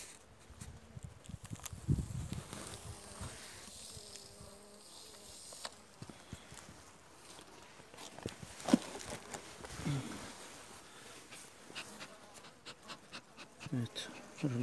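Honeybees at an opened hive during inspection of a weak colony, a faint irregular buzz of insects flying close by with occasional handling knocks and rustles.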